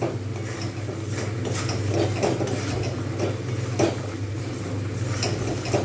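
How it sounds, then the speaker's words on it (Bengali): Amla (Indian gooseberry) pickle being stirred in a pan, with a spoon scraping and clinking against the metal in an irregular rhythm over a low steady hum. "বেশ কিছুক্ষণ সময় লাগবে এটা কিন্তু ভালোভাবে নাড়তে হবে"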